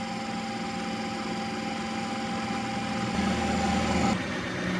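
A Ninja Creami Deluxe ice cream maker runs with a steady motor hum and vibration, its drone swelling slightly near the end before easing.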